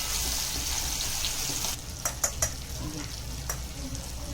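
Masala spices roast in a pan with a steady sizzle, then the heat drops and a spoon stirs them, adding a few clinks and scrapes close by.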